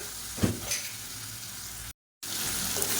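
Boiled potatoes fry in a pan with a continuous close sizzle, a couple of soft knocks from a spatula, and one brief dropout near the end. No one speaks.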